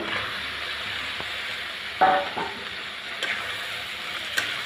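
Washed ridge gourd goes into dried shrimp already frying in spices, producing a continuous moderate sizzle. A brief louder crackle and a few light knocks break through the steady hiss.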